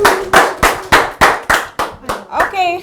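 A conference audience claps in about nine sharp, evenly spaced bursts lasting under three seconds, loud and close, with a voice starting up at the very end.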